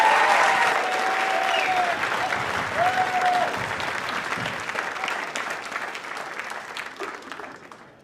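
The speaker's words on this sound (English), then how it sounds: "So please give a round of applause for Mr. John Charanko." Enthusiastic applause from a sizable audience at a college jazz band concert, loud at first and gradually thinning out, with a few brief whistles early on.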